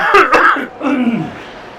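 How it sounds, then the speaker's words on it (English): A couple of harsh, close coughs in quick succession, followed by a rougher throat-clearing cough, then quiet. "Excuse me for all that coughing."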